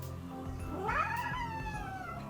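A house cat gives a single drawn-out meow that rises and then falls, heard up close and fairly quiet against a faint background hum.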